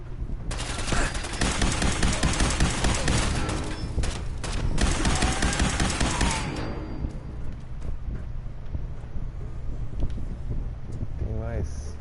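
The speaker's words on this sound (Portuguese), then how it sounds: "Toma a granada!" A grenade blasts in Fallout 4, followed by a long, loud, roaring burst of noise and rumble that fades into quieter hiss, with someone talking over it.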